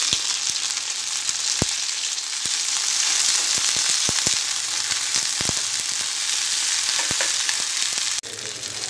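Mint leaves frying in a pan for a green chilli roti pachadi, a steady broadband sizzle with sharp clicks and scrapes of stirring scattered throughout, briefly dipping near the end; no talking.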